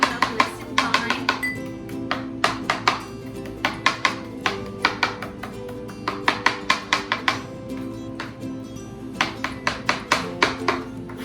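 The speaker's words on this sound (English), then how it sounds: "So I'm just chopping it up nice and fine." A knife chops fresh dill finely on a cutting board, a close run of quick sharp taps in bursts with brief pauses, the blade striking the board rhythmically; faint background voice or room noise.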